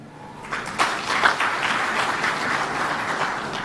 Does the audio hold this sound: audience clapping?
yes